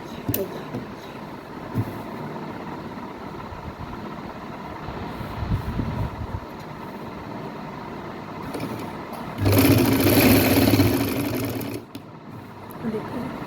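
A sewing machine stitches a salwar seam in bursts. Its steady mechanical whirr grows loud and dense for a couple of seconds near the end, and someone talks over the quieter stretches.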